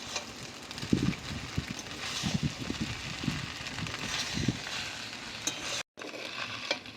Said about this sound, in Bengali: এরকম আলতো হাতে ভালো করে নাড়াচাড়া করে নিতে হবে।